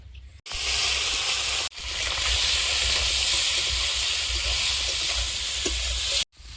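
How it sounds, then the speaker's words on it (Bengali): Cooking oil hissing loudly in a hot karahi over a clay stove, a dense continuous sizzle that cuts out abruptly twice and resumes, with no voices. "কড়াই গরম হয়েছে, তেল দিয়ে দেবো।"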